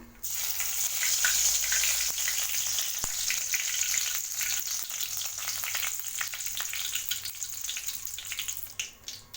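Four cinnamon sticks, two cardamom pods, three cloves and a few curry leaves crackle in hot oil over a medium flame, a loud, steady close sizzle with occasional pops and no voices.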